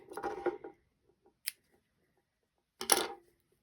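Scissors snipping crochet yarn on a granny square afghan: a few quick, crisp cuts, one brief click in between, close and clear with near silence around them.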